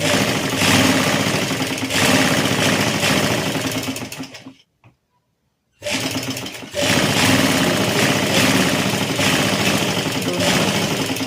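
A sewing machine runs steadily as it stitches salwar fabric, a loud, even mechanical whir close by that stops briefly for about a second before starting up again.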